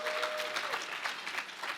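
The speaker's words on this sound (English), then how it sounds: "seriously, give her a round of applause." Audience at a television awards ceremony giving a round of applause: a fairly soft, even wash of many hands clapping in a large hall, continuous for the whole stretch without voices.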